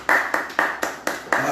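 A congregation at a midday Friday adoration prayer service claps in a steady rhythm to acclaim Jesus, six crisp, evenly spaced claps close by with no voices.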